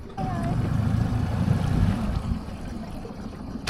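A dinghy's small outboard motor catches and runs with a low, rough, steady rumble close by over water splashing, with a voice speaking over it.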